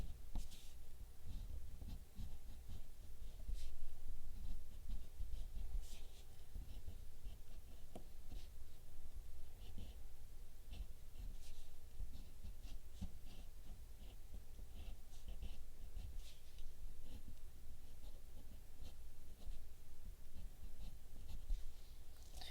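A wax crayon scratches zigzag strokes across paper, making close, steady scribbling strokes that run continuously with small bursts and no talk over them.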